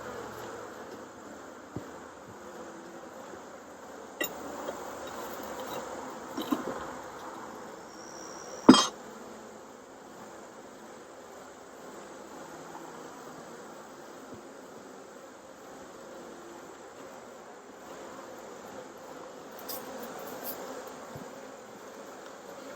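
Honeybees buzz around backyard hives in Tennessee in October, a soft steady hum in the background with a few faint knocks and one sharper bump partway through.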